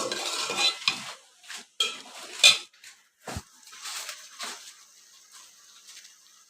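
Fish going into a pan of cauliflower curry for a Bengali fish jhol, with scattered clinks, scraping stirs and a soft sizzle, loud knocks early and quieter stirring after, close up and with no talking.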